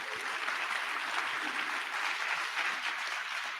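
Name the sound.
audience applause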